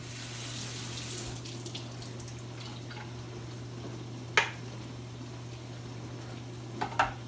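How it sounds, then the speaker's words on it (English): Faint running water as clean water is poured into a Bissell 2X Pet Pro Heat carpet cleaner, with a steady hum underneath, punctuated by a few distinct drips and splashes near the end. "Just throw a little bit of clean water down there."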